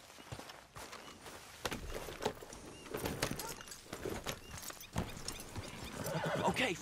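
In the Red Dead Redemption 2 video game, a horse snorts and neighs amid a steady clip-clop of hooves, faint and close, with light scuffs throughout.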